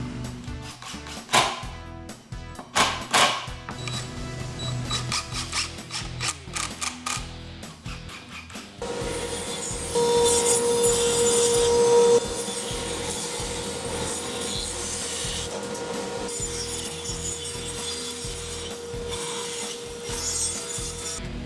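Scraping and rubbing of a tree branch against a plywood straight-edge jig on a table saw, then a steady, louder whining cut as the branch runs along the fence, with no talk.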